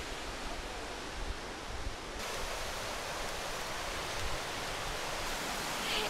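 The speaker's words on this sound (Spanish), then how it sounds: "hay muchísimas olas grandes y hay mucho corriente aquí" Large ocean waves on a beach with strong currents make a continuous broadband roar at a moderate distance, steady and even with no voices.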